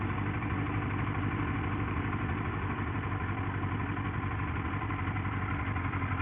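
A Triumph Scrambler 1200 motorcycle engine idles nearby with a loud, steady, even rumble and throb that holds constant from start to finish with no voices.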